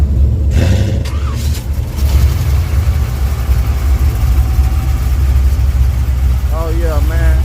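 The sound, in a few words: race car engine running with 750 carburetor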